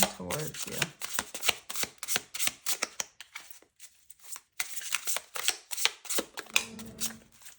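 Tarot cards are shuffled repeatedly in quick riffling bursts, close and crisp, with brief pauses between rounds and a voice speaking near the end.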